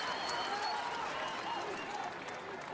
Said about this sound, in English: Dunning gets a nice round of applause from the Coliseum crowd.